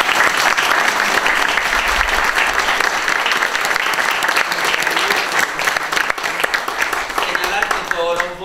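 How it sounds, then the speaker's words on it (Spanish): Sustained, dense applause from an audience honoring Patricia Stambuk at a museum event, steady and loud throughout with some crowd murmur mixed in. "Les vamos a dar un tremendo aplauso a Patricia Stambuk"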